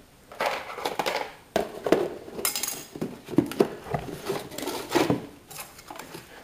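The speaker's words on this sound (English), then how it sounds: "I'm actually just gonna stir this stuff. Just mix it around a little bit." A cup of redgum-bound firework star mixture with magnalium is stirred by hand, giving irregular scraping and clinking strokes in short, close bursts. No one talks over it.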